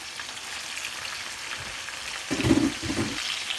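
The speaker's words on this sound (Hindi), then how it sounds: "इनको ना हमने हल्की आंच पर इसी तरह फ्राई होने देना है" Vegetables for baingan bharta fry covered over a low flame, a soft even sizzle that swells briefly louder near the end, close by and with no voices.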